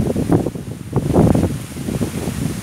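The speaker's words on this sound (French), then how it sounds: "Ah, le vent, ici, il emporte tout le temps mes paroles." Wind gusting straight into a microphone outdoors makes loud, uneven low buffeting and rumbling bursts that swell and fade continuously.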